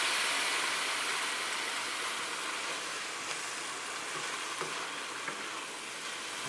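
Curry paste for curried oxtails hitting a hot pot, an immediate loud sizzle that settles into a steady frying hiss with a few small stirring clicks.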